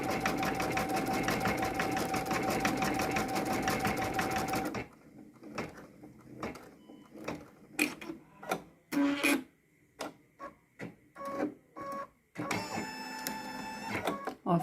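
Computerized embroidery machine stitching a bag strap for a diaper bag, a steady rapid mechanical whirr for about five seconds, then stopping into scattered clicks and handling knocks, with a brief burst of stitching near the end.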